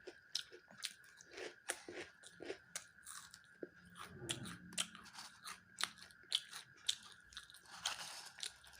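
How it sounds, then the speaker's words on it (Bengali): Someone eats crunchy puffed rice (muri) at an evening snack, giving a steady series of close, crisp crunching bites and chewing sounds with no talk. "মুড়ি খাচ্ছে"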